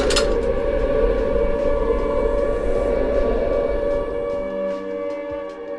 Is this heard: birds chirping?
no